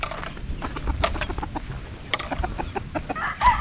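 Chickens in a small farm coop cluck and squawk continuously at close range, several birds overlapping in a busy, irregular chatter with a louder call at the end.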